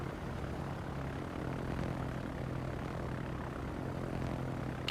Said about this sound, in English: These planes feel faster because they're lower.